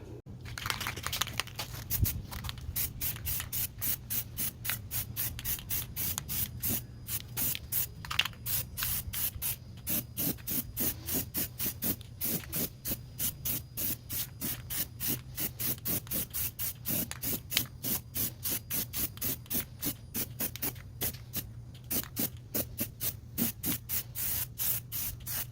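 Rust-Oleum Professional fast-drying spray paint hisses onto steel wheels in many short, rhythmic bursts close by, each spray separated by brief pauses, with a low steady hum underneath throughout.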